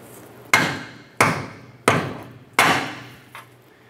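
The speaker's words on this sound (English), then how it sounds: "I'm going to smack the bottom with a hammer." Four sharp hammer strikes on a 2007-2012 Nissan Altima forward lower control arm bushing at a steady pace, each ringing briefly, followed by a faint fifth tap; close and loud, no talking.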